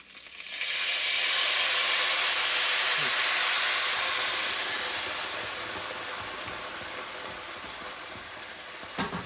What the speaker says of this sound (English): And then we are going to add our sauce, just right on top of that.